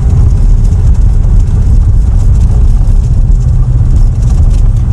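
A 1963 Rover P4 110 engine runs loud and close, a dense steady low rumble with no breaks and no voices.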